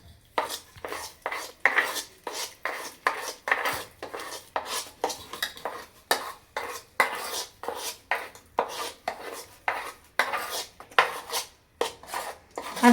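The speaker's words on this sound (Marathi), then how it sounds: "आणि छान मिक्स करून घ्यायचं." A spoon scrapes and knocks steadily in a bowl, mixing a thick masala batter for coating peanuts. It makes a brisk, regular rhythm of close scraping strokes, about two each second, with no talking.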